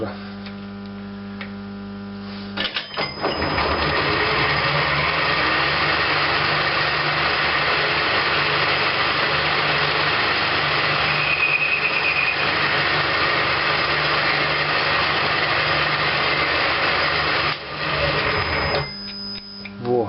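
Metal lathe running steadily while boring a roller for sliding doors, a continuous even machine hum and whir lasting most of the span, starting and stopping abruptly, with no talk.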